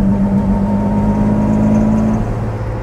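A restored 1966 Jaguar E-Type 3.8 Coupé engine hums steadily while driving at a constant low pitch, loud and close, with a faint drop-off in the last half second.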